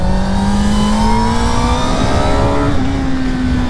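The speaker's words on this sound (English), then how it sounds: "it does have a nice intake noise when you're getting up in that high RPMs" A CFMOTO 500SR four-cylinder motorcycle pulls hard at high RPM, its intake and engine note holding a steady, loud, rising whine for several seconds with no talk over it.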